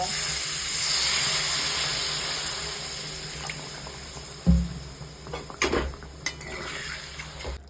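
Water is poured into fried spices in a pan for a katla fish curry, giving a steady hiss and sizzle that fades, followed by a few clinks of utensils against the pot.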